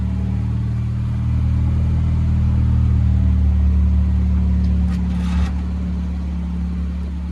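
A car engine idles steadily after a carburettor rebuild, a loud low rumble that swells slightly midway with a brief higher rattle before settling back, with no talking.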